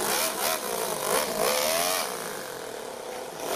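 A small engine runs steadily in second gear on a little vehicle tested without its trailer, a near buzzing drone that swells and dips in pitch, then settles to a lower, fainter hum.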